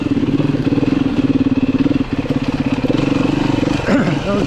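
Beta 390 RR-S four-stroke dirt bike on a wooded trail, its engine chugging in a steady close low thump that briefly falters and sputters, then catches again with a revving rise at the end.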